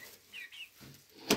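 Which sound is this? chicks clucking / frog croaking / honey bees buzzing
chicks clucking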